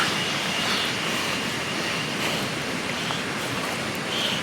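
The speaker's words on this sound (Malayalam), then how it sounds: "വെള്ളച്ചാട്ടം അവിടെ." A waterfall at a paid-entry tourist spot roars as a steady, loud, dense wash of noise with no break and no voices.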